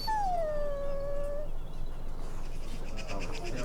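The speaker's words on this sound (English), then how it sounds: "Puppy!" A young puppy in the Dragon Age Origins game gives a high, drawn-out whimpering whine that slides downward over about a second and a half, then trails off into quiet background noise.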